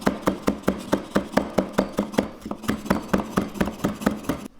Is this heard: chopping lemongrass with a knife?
yes